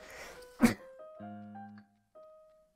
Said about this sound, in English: And thus I sneezed.